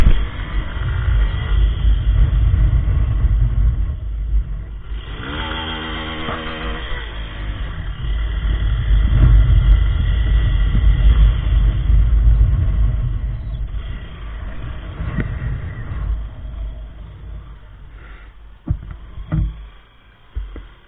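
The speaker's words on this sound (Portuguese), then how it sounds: "A moto tá ligada já." A motorcycle engine running nearby, a loud steady low rumble that holds throughout with slight swells and a brief rattling patch partway, ending in a few knocks.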